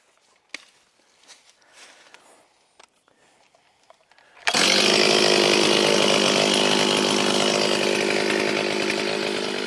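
A Stihl chainsaw bites into a standing tree during felling, starting abruptly after a few seconds of light outdoor rustling and then roaring loud and steady at close range.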